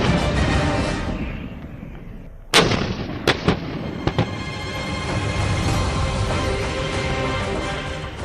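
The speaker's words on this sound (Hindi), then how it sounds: "सेना की तोपें लगातार अपना निशाना लगाने की प्रैक्टिस में जुटी हैं" Indian Army artillery guns fire on a range at Mahajan, Rajasthan, with loud booming blasts in a sequence. One heavy report is followed by several sharper shots, rolling echoes and a steady rumble between them.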